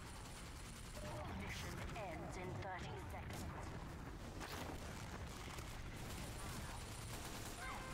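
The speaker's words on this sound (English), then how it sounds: "Get sniped by my SMG!" An SMG fires continuously in a video game, a dense, noisy rattle of gunfire with a voice talking over it throughout.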